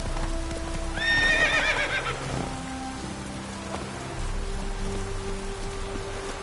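Geralt's horse Roach from The Witcher 3 whinnies loudly, then hooves clop along in steady rain, with rainfall hissing throughout and a low background drone.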